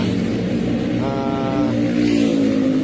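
A steady, continuous engine hum running throughout, close and fairly loud, with a brief higher whine partway through.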